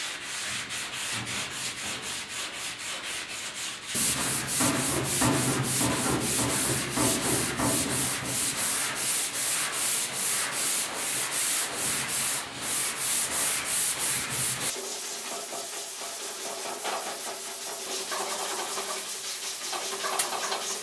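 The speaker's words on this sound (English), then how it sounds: "the sanding's coming along" Hand sanding with 320 grit sandpaper on the cab of a 1972 Ford 4x4 truck, a close rhythmic scratchy rubbing in quick repeated strokes that shifts in tone midway, with faint birds cooing in the background.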